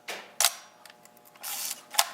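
A Nikon FE film SLR camera firing its shutter at 1/60 second, giving crisp mechanical clacks and a soft whir, close and isolated in quiet surroundings, repeated a couple of times.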